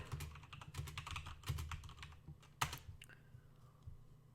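Rapid tapping on a computer keyboard while entering router configuration commands, a quick close stream of clicky keystrokes with a sharper key strike near the end, then trailing off quietly, no voices.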